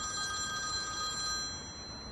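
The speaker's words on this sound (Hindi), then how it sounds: "सेल्समैन का फोन है।" A telephone rings steadily in an indoor drama scene, a continuous electronic ringing tone at moderate level with no talking over it.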